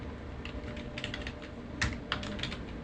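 Typing on a computer keyboard while entering a net salary column in an Excel salary sheet, a quick irregular run of close key clicks with a couple of sharper taps, no talk.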